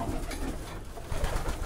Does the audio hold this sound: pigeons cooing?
yes